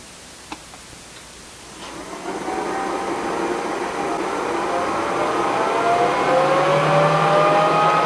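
xTools SafetyPro fan spinning up after a small click, its whir rising in pitch and loudness over several seconds into a strong, steady blowing roar.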